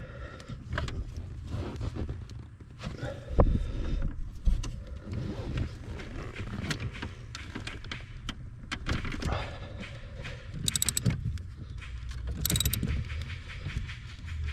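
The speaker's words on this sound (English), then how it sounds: "that's a locking nut, so it's coming off pretty hard" A socket and 13mm wrench loosen a tight locking nut on the steering shaft of a 2000 Dakota, with close, uneven metallic creaks, clicks and grinding strains across the whole stretch and no talking.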